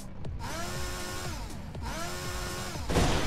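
A chainsaw in the video game Ben & Ed: Blood Party revs and whines in two rising and falling bursts, a buzzing motor tone sweeping up and down, fairly quiet, with no talk.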